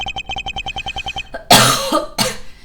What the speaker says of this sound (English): God damn, I hate this cough.